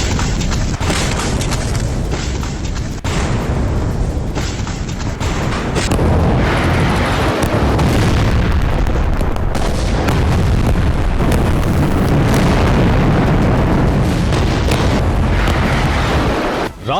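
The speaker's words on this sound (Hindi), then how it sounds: "रात के अंधेरे में धमाके की आवाजें आ रही हैं।" Loud, heavy booming blasts from night-time bombing in Gaza roll out one after another, with deep rumbling that lingers and long stretches of dense, continuous thunderous noise.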